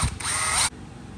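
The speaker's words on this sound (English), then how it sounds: "So I go ahead and use the center drill to start my holes." A center drill bites into a motorcycle handlebar on a 1998 Harley-Davidson FXSTS Springer Softail, giving a short, loud, steady whine that cuts off sharply partway through, leaving a quieter hum.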